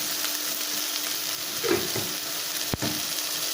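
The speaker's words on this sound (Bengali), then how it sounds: "এবার এটাকে আমি ভালো করে নাড়তে নাড়তে পুরো ফুটিয়ে নেব" Egg curry with peas simmering and being stirred in a pan, a steady close sizzle and bubbling with a few scrapes of the spoon and one sharp knock against the pan.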